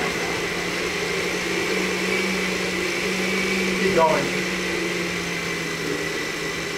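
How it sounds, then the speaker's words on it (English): A blender runs steadily, chopping comfrey leaves into a poultice mash, giving a constant motor whir with a brief louder surge partway through as a voice speaks over it. "Do not stick your fingers in the blender while it's going."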